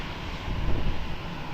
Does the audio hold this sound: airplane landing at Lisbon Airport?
yes